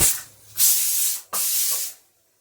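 Two loud, sharp bursts of steam hiss close by from a pressure cooker of dal khichdi, each lasting about half a second, with a short gap between them before the sound trails off.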